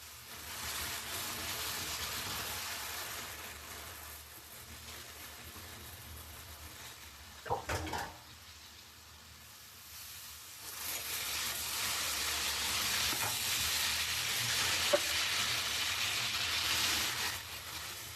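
Vegetable noodles stir-frying in a pan give a soft, steady sizzle and hiss that swells and fades as they are tossed, with a few brief clatters partway through and no talking.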